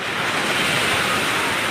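Sea waves surge and crash at Somnath beach on a busy late morning with crowds near the water. A loud, continuous surf roar, roughened by wind, fills the scene without a break.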